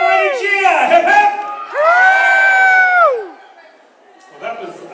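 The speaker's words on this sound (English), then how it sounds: "Hey, everybody, cheer!" A crowd at a Medieval Times dinner show cheers for the King, with loud whoops and rising-falling yells in two strong bursts before dying down to a murmur, then a short swell at the end.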